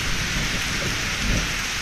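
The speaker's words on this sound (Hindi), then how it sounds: "बहुत तेज़ बारिश है यार, बहुत तेज़ बारिश है।" Heavy, steady rain pouring down in a continuous dense hiss at a campsite in Toli Peer, loud and close with no breaks.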